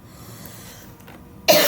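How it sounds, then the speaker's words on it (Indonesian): A man who has a cough and flu lets out a single sudden, loud cough after a stretch of near-quiet. "saya sering batuk-batuk karena memang kondisi masih belum sehat, batuk dan flu"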